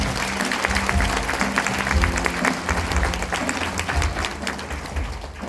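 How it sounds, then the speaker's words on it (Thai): Audience applause for a speaker's family at an opening ceremony for a food show's 200th episode celebration, a full, sustained burst of clapping from a sizeable crowd, loud and close throughout. "ปรบมือให้ครอบครัวผมในครั้งหน้าเลย้"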